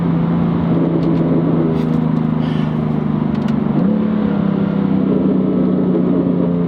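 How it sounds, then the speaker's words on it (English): A BMW M3 Competition's 3-liter inline-six twin-turbo S55 engine holds a loud, steady drone close by, its pitch stepping up briefly midway, with faint crackles above and no speech. "That sound of the 3 liter 6 inline twin turbocharged S55 engine."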